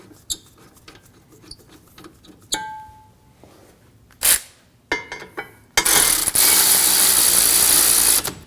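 Ratchet clicks and mechanical rattles while snugging the brake caliper bracket bolts on a 2016-2022 Honda Pilot during a rear brake job, with scattered close clicks and a loud sustained burst near the end.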